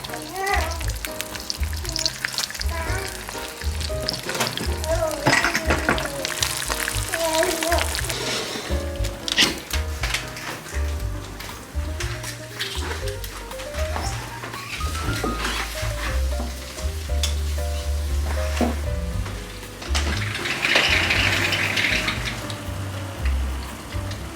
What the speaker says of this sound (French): Maman elle prépare des œufs pour papa.